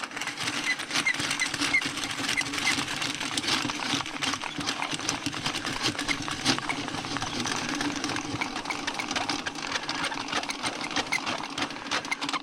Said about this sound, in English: Get the auger started, push it down. We're going to crank this handle.